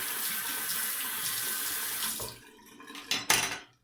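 Tap water runs steadily into a sink while a face is wetted for a wet shave, a loud continuous splash that cuts off after two seconds, followed by a few close splashes and drips.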